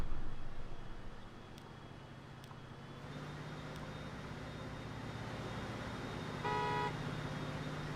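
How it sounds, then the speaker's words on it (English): A brief car horn toot from Transport Fever 2 sounds clearly midway, a short steady honk standing above a steady hum of road traffic and engine rumble in a city scene. "the typical car horn."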